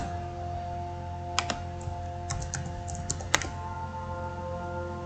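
A PIN is typed on a computer keyboard: a handful of quick, light key clicks, close and distinct, over a steady background hum.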